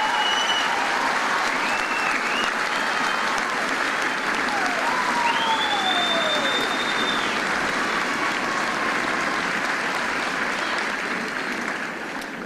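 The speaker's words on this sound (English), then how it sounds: "So please join me in a round of applause to thank the drill sergeants and their families for their service and a job well done." Steady, sustained applause rises from a large crowd at an Army boot camp graduation ceremony at Fort Jackson, South Carolina. It lasts about twelve seconds at even strength and fades slightly at the end, with a few faint high whistles or chirps above it.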